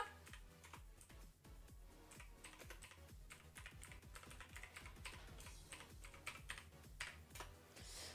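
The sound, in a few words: computer keyboard typing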